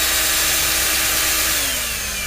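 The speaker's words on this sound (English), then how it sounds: "you can crank your drill all the way up and rip off that line" Cordless power drill running at high speed to spin a spool and strip fishing line at a homemade spooling station, a steady loud whir with a slowly falling tone and no talk.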